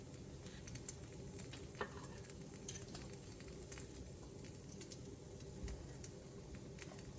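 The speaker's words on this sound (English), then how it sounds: "It's gonna fry up. I'm cooking these on low heat." Corn fritter batter frying gently in a pan over low heat gives a soft, continuous sizzle with faint crackles and a couple of small ticks, heard up close with no voices.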